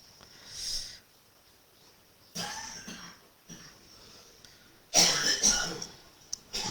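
Three separate bursts of coughing spaced a second or two apart, close and harsh, with quiet pauses between.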